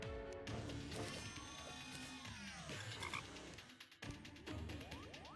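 Frogs croak steadily throughout a Terraria game scene, mixed with layered in-game sound effects, chimes and sweeping tones at fairly loud level with no talking.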